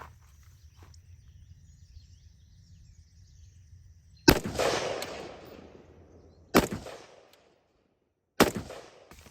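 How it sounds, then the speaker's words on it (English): Three sharp gunshots from a rifle fitted with a SIG Sauer Romeo MSR Gen II red dot sight, fired at a target, spaced about two seconds apart, each ringing out over an otherwise quiet outdoor range. "Let's fire 3 shots on camera to confirm 0."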